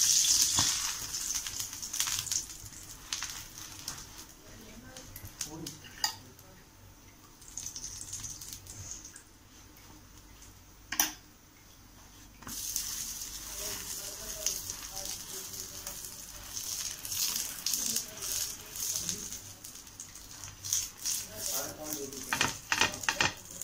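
Burger buns toasting in butter or ghee on a pan, with a gentle ongoing sizzle and occasional clinks and scraping handling noises, faint and close, with a quieter pause in the middle.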